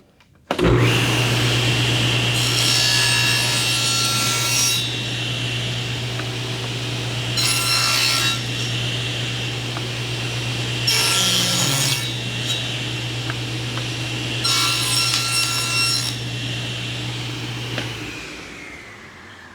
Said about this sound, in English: And with the blade set at a 30-degree bevel, I'm just going to take off the corners of all 4 sides.